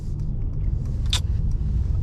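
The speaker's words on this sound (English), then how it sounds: "The car's still warming up. We are doing a drive right now." A Mercedes-AMG car engine still warming up on a winter drive, heard as a steady low rumble from inside the cabin, with a brief metallic clink partway through.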